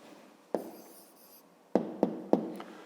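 A pen writes out an answer to a fifth-grade maths exercise on paper, with a soft scratch followed by several sharp taps and short strokes, close and quiet with no talking.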